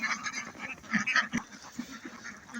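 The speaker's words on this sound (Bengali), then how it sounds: "না দেখলে এই হাঁসের খামার বিশ্বাসই হবে না।" Ducks on a duck farm out in an open field in winter, a dense cluster of close, overlapping quacks and honking calls with no talking.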